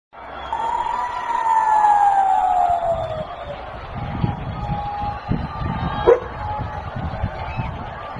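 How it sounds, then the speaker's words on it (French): A wailing air raid siren rises and falls in Jerusalem during an Iranian missile attack, sounding loud and sustained at first, then giving way to a rumbling, bumpy background with a sharp knock near the end. "Des sirènes ont retenti à Jérusalem et à Tel Aviv"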